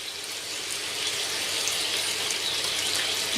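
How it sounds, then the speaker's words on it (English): Water is poured into a pan of chicken as a steady, close gushing stream with a broad hiss that runs the whole time, with no talking. "Now I'm going to add the water to it."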